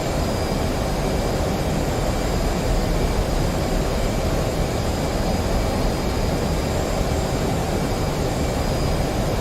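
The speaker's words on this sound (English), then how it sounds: "I was just giving the boys in the stream a little Mach 1 flyby." F/A-18 Hornet jet roaring in a Mach 1 flyby in DCS World, a loud continuous broadband engine roar with a faint whine, steady and unbroken from start to finish.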